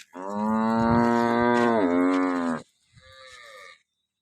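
A freshly calved cow moos nearby in one long, loud, drawn-out low call, then gives a shorter, softer moo after a brief pause.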